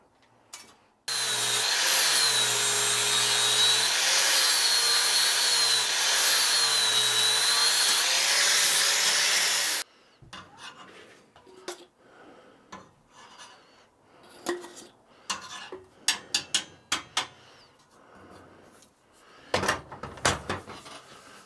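A sanding disc polishes a TIG-welded copper joint made with electrical-cable copper as filler, giving a loud, steady grinding whine for about nine seconds, then stopping and leaving scattered scrapes and clicks.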